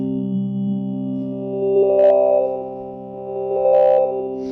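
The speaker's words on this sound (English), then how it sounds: "the lo-fi filters specifically go in chunks, so they will step for you" A distorted Hydrasynth tone holds steady while its lo-fi filter steps upward in distinct jumps, with two brighter resonant swells; no voices.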